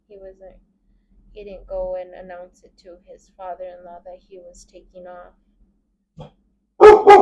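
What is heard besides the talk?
dog barking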